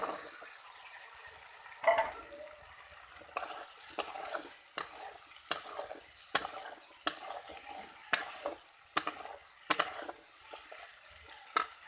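Potatoes go into a pan of cooked spice masala for a vegetarian chana dal bora curry, bringing a soft, steady sizzle broken by a string of sharp scraping and stirring knocks at irregular intervals.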